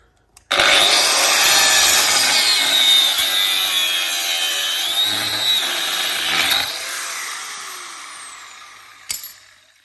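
A power tool cuts through a cheap metal shifter box part during a Honda Jazz Fit K20 engine swap, a loud, close, sustained shrieking grind lasting several seconds before winding down, with a brief clank near the end.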